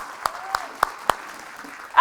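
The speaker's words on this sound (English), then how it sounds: "Give yourselves a round of applause." Four sharp isolated claps spaced about a quarter second apart, close and distinct, from an audience at a talk, with a voice at the very end.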